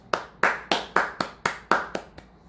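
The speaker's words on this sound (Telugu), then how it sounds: "clap for Jesus" Congregation clapping for Jesus in a church service, eight sharp, evenly spaced claps in a steady rhythm, close and clear with no talking over them.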